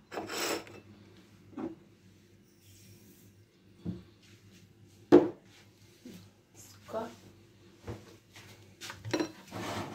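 Eggs and sugar being mixed in a bowl for homemade madeleines, giving scattered scrapes and clinks of a utensil against the bowl, with several louder knocks, under voices speaking in the background.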